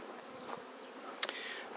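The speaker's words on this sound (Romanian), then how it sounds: "numărul ăsta de albine multe la apă indică un singur lucru" Honey bees buzzing around a water feeder at an apiary in spring, a faint close drone of several insects with brief louder passes as individual bees fly near.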